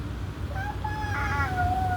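A voice imitates a cat, giving a rising and falling meow-like call of about a second, faint against a low background hum.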